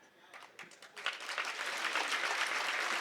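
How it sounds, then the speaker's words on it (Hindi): Audience at a Hindi comic poetry recital breaks into applause, starting as scattered claps and swelling into a steady, moderately loud wash of clapping. "ताली यहाँ नहीं बजानी थी"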